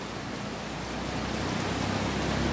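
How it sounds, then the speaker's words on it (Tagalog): Steady rain pouring outdoors near a school, a dense unbroken hiss that stays even and fairly loud throughout, with no voices over it. "Umuulan na po."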